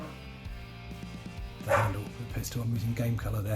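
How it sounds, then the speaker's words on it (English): A dog barks a few times in the background while a person talks over it while painting miniatures. "If you can hear that, that's my dog."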